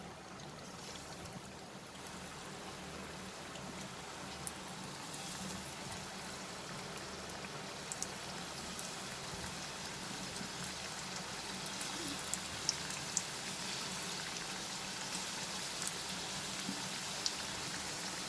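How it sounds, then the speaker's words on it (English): Potatoes frying in hot oil, a steady broadband sizzle with scattered crackles and pops that holds at an even level throughout, with no talk over it. "Slowly we'll drop the potatoes into the hot oil."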